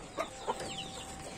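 A laying hen clucks twice in short bursts, fairly close, with a faint bird call trailing after amid quiet farmyard background.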